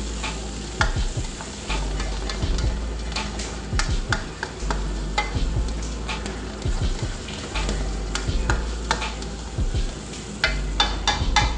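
Onion sizzling in hot oil for a green salsa chicharrón stew, a steady close crackle with repeated stirring clicks and scrapes against the pan, and no voices.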